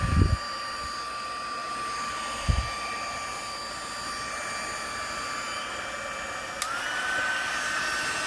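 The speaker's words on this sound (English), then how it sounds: "I'm going to turn my embossing tool on, get it heated up." A handheld embossing heat tool blows hot air with a steady, even whir and faint high whine, preceded by a few short bumps and clicks as it is handled.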